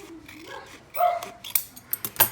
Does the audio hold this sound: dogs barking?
yes